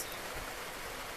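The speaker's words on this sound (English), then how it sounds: "it's pouring down rain" A steady, even hiss of heavy rain pouring down, soft and constant, with no other sounds.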